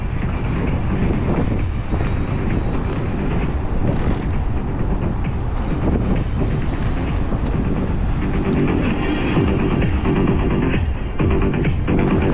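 Strong March wind on a cycling route near Feodosia in Crimea buffets the microphone in a constant heavy roar and rumble, loud and unbroken for the whole stretch, with no other clear sounds standing out.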